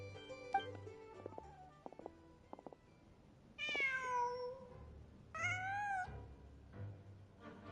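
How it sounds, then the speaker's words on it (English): A cat in Genshin Impact gives two clear rising-falling meows, preceded by soft clicks and taps over a low ambient hum. "Just a cat."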